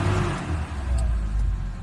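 Gasoline engine of a Mitsubishi Adventure revving, a loud, close, sustained low rumble that swells and eases slightly over a couple of seconds.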